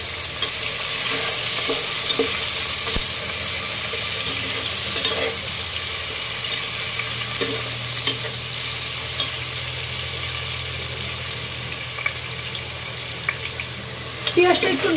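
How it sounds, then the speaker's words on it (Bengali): Half a cup of onions fries in hot oil for a hilsa and pumpkin curry, a steady, dense sizzle running close and loud throughout, with a few sharper crackles and a stir near the end. "তেল গরম হয়েছে, এবার আমি দিয়ে দিচ্ছি পেঁয়াজ"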